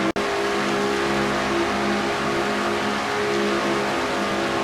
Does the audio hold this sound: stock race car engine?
yes